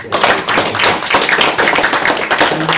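A talk audience applauds the speaker after a personal account of prostate cancer, a short, loud burst of close clapping with distinct hand strikes blending into a steady patter.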